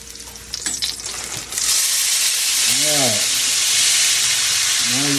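Bacon grease sizzles and hisses steadily in a hot pan after a short burst of handling noise, a loud broadband frying crackle that fills the whole stretch with no one speaking.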